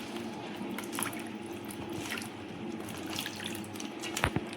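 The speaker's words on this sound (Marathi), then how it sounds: "2-3 पाण्याने साफ करून घेते" Fresh mushrooms being washed in water in a sink or bowl: continuous running and splashing water with small knocks and drips, close and moderately quiet.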